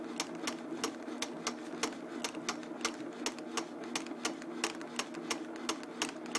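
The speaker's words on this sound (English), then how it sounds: "So when the piston comes up, the ball's coming down." A ball bounces chaotically on top of a moving piston device, giving a rapid series of sharp, evenly loud ticks at an uneven rhythm over a steady mechanical hum, close and clear with no talking.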